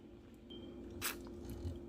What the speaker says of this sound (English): Less talking, more chewing.